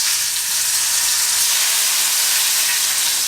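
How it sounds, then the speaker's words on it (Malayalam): Dry red chillies and mustard seeds in hot coconut oil give a loud, close, unbroken hiss of sizzling for a few seconds. "ഇനി 2 വറ്റൽമുളക് പൊട്ടിച്ചിടാം."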